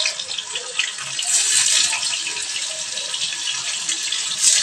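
Paneer pieces fry in plenty of hot oil in a wok, making a continuous loud, hissing sizzle that stays close and steady throughout, with no talking.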